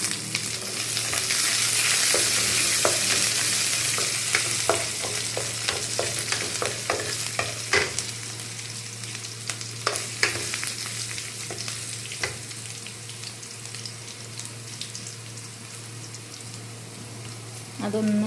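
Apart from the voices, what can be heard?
stirring fish curry ingredients frying in pan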